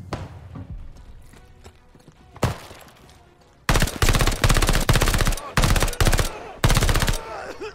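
Rifle fire in Call of Duty: Vanguard's story campaign: after a stretch of quieter in-game ambience and a single shot, loud, rapid bursts of gunfire crack out close by, separated by brief gaps.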